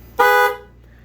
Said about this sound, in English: That sounds almost like a car horn.